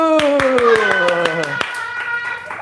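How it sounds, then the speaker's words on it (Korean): Rhythmic clapping, a group keeping a steady beat of hand claps alongside children's voices calling out, close and lively, then tapering off. "박수!"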